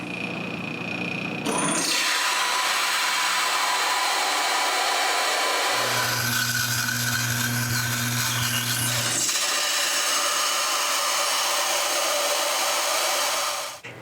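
A drill bores holes into hardened steel for a wooden stair gate, a steady close grinding, rasping whine that runs unbroken for about fourteen seconds, shifting in pitch and roughness partway through as pressure changes.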